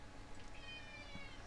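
A cat meows for attention, a drawn-out tonal call repeated faintly and steadily at indoor distance over a low room hum, with no talking.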